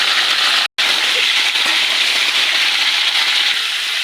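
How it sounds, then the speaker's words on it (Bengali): Cauliflower florets frying in hot oil in a kadai fill the scene with a steady, dense hiss and crackle, loud and close, with one brief dropout near the start. "তেল গরম হয়ে গেছে, এবার ফুলকপিগুলো ভেজে নেব।"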